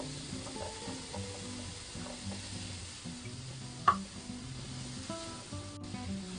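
Onions, ginger and pepper sizzle in a pan for a burger, a steady soft frying hiss running beneath background music with one brief clatter.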